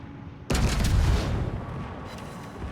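Video game gunfire starts abruptly as a loud burst of booming shots, then fades into a rumbling decay with faint echoes.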